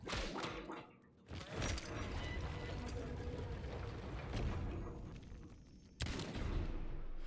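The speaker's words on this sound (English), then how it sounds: "I hadn't fired the gun yet, so I just wanted to give it a shot" Gunshots fired in Indiana Jones and the Great Circle, loud sharp bursts near the start and again around six seconds over a dense game soundscape, with brief talk mixed in.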